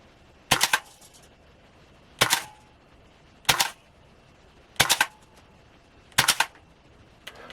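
Five sharp rifle shots from an M4 loaded with a new magazine, spaced roughly a second and a half apart, each a loud close crack with a short ringing tail, no talking between.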